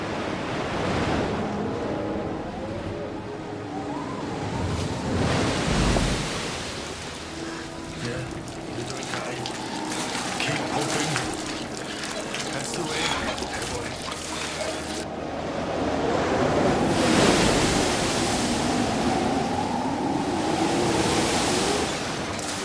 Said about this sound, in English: The seas began to rise. Winds blew into gales.